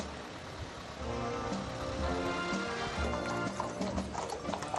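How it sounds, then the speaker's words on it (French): Horses' hooves clip-clop through village streets during a Saint-Martin procession with historical floats, the steady hoofbeats heard amid a busy outdoor crowd ambience. "le village tremble sous les sabots des chevaux"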